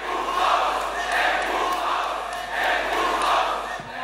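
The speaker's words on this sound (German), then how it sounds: "Die AfD-Mitglieder brüllen Lucke nieder." AfD party members at a party meeting loudly shouting and booing down Bernd Lucke, a sustained roaring crowd with rising and falling waves of angry yelling filling the hall.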